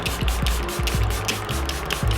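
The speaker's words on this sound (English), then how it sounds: "This is the Charlotte Tilbury setting spray." Charlotte Tilbury setting spray misted onto a face in quick repeated pumps, about seven short close hissing bursts in a steady rhythm over roughly two seconds, no talking.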